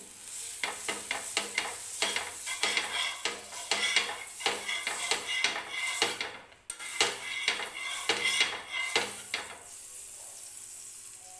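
A spatula scrapes and taps steadily on a nonstick tawa as butter is spread and halved pav buns are set down to warm for pav bhaji, with a soft sizzle running underneath and a brief pause midway.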